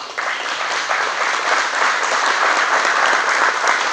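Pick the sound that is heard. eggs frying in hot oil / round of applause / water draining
round of applause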